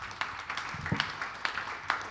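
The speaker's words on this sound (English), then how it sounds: "And second round of applause for Nairi," Scattered, uneven clapping from a conference audience at an animation and performance paper session, a few sharp claps standing out over a quiet room.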